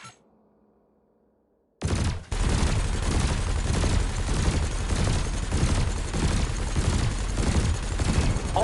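Ship weapons in Elite Dangerous fire at floating canisters in a combat evaluation, a sudden dense, continuous barrage of loud rapid shots that begins after a near-silent start and holds steady throughout.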